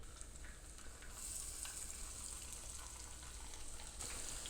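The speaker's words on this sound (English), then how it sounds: "we start to fry the zucchini flour" Batter-coated stuffed zucchini flowers fry in hot vegetable oil, a faint, even, continuous bubbling sizzle with no talk.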